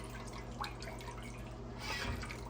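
Leftover soaking water drains from beans being prepared for green chili, a soft steady trickle and drip into a sink, fairly quiet and close, swelling slightly toward the end with no talk.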